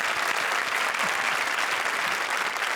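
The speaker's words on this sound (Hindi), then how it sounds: "जोरदार तालियां" A studio audience at the Comedy Circus show claps loudly and steadily, a dense wash of applause with no voices standing out.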